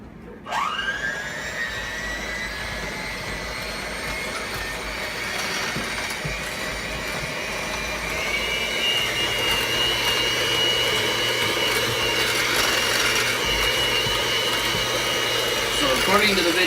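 A mixing appliance beats cornbread batter with four eggs in a home kitchen, starting abruptly with a loud, steady high whine that holds for many seconds and grows slightly louder partway through.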